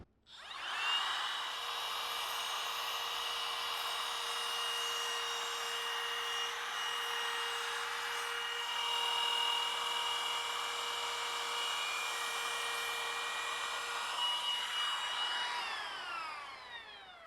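A router with a flush cut bit trims wood veneer in a steady, high whine that runs for over fifteen seconds at a constant level before winding down, with no talk over it.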